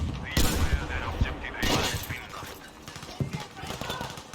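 Gunfire from a Battlefield V battle in the Solomon Islands jungle: repeated bursts and sharp shots over a dense, loud battlefield din, with a tank rumbling nearby and someone talking throughout.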